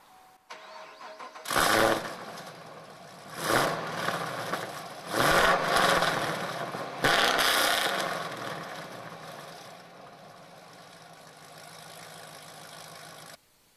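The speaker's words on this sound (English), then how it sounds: "this is a cold startup with the stock exhaust on it" A 2011-13 Camaro SS convertible with headers, high-flow cats and stock exhaust cold-starts with several loud cranking bursts, then settles into a strong, steady idle that slowly quiets.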